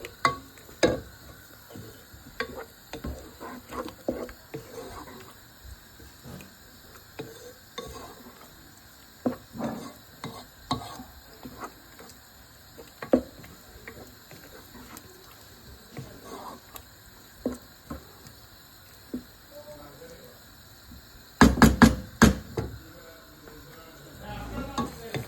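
A utensil scrapes and clatters against a pan while cheese kottu with tomato sauce is stirred, soft irregular knocks under a faint sizzle, swelling into a louder burst of clanging near the end.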